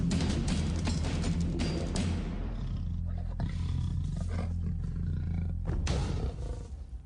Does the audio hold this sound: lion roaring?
yes